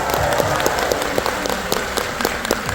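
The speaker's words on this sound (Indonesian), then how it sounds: "Untuk mereka tolong berikan aplaus yang paling meriah" Loud, dense applause from an audience in a Makassar hotel ballroom at an award ceremony, a continuous wash of many hands clapping close by.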